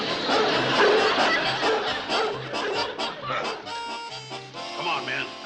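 A dog barks repeatedly in short yipping bursts, close and lively, amid a busy sitcom scene with people talking and shouting over it.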